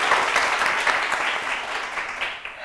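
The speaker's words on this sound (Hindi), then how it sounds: "तालियां जरा सही से बजाओ" An audience of children claps together in a room, a brief steady patter of many hands that tapers slightly toward the end, with no talk over it.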